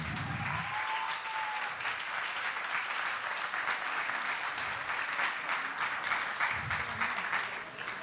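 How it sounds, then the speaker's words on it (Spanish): A sustained wash of dense audience applause fills the room steadily from start to finish, many hands clapping at an even level, at a voice-acting casting master class. "Dense un aplauso a ustedes por estar ahí."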